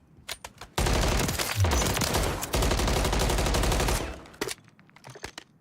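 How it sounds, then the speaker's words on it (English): An assault rifle fires in a Call of Duty match, with a few single shots followed by a long sustained burst of rapid automatic fire lasting several seconds, loud and close, then tapering off into scattered shots. "Let me try this gun out again."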